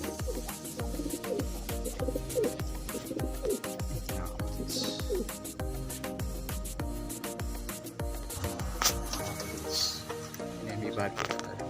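Homing pigeons coo in overlapping low throaty calls amid busy, rattling background activity, fairly close and continuous throughout.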